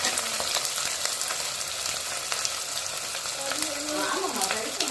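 Onions frying in a pan, a dense continuous sizzle with the soft scrape of stirring running through it and faint background sounds, no clear speech.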